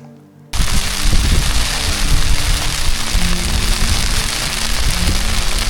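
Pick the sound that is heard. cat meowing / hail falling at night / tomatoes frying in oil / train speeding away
hail falling at night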